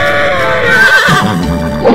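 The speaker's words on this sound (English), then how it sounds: "Horse." A horse neighs loudly and close up, one long shrill whinny that wavers and breaks into a rough, shaky trill as it fades.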